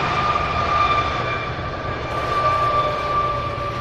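A Boeing 767 landing at night near a busy cargo hub airport, its jet engines giving a steady, moderately distant roar with a sustained whine, no talking.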